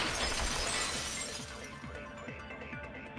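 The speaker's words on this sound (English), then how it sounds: "If it wasn't the window, then what broke to make that sound? A vase." A vase shattering in the video game Danganronpa 2: a loud burst of breaking glass or ceramic that fades into a scatter of small tinkling fragments and debris settling, with no voices.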